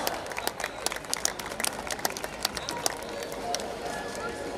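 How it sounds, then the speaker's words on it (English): School annual function audience clapping in a dense, steady patter of sharp hand claps, moderately loud and filling the hall, with voices murmuring faintly underneath throughout. "let's give them another huge round of applause"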